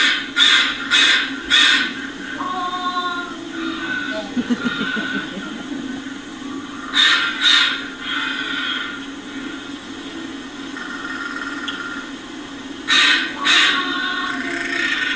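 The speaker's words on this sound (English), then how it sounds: "Sometimes you'll run across a bunch of crows, and that's all they'll be doing is doing that mewing call." Several crows call from close by in a recording, giving loud caws in bursts of two or three and softer, drawn-out mewing calls in between, with a low rumble underneath.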